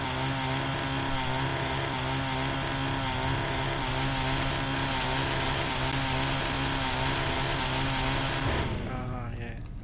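A chainsaw engine runs in Fallout New Vegas, a loud continuous buzzing drone with steady harmonic whine that holds for most of the stretch before abruptly cutting off near the end.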